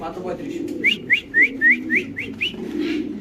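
Lakka pigeons give a run of about seven short, rising chirping calls in quick succession, close and fairly clear over a low background murmur.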